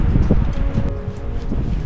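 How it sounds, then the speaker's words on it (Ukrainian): Gusty mountain wind on Giewont buffets the microphone in short rushes, with a low steady roar underneath and faint rustling. "але вітер дме."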